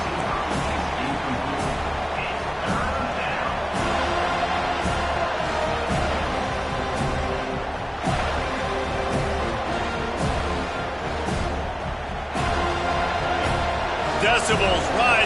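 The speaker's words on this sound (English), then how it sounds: "Decibels rising as the crowd gets behind this defense on 3rd down." A football stadium crowd roars as the defense faces third down in a Clemson vs FSU college football game. The dense, sustained crowd noise swells in waves with sharper bursts, and an announcer seems to talk over it.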